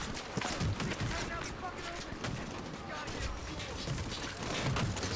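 Dense, continuous gunfire in the Medal of Honor Warfighter video game, a steady crackling barrage of shots, some sharp and near, blended with speech throughout.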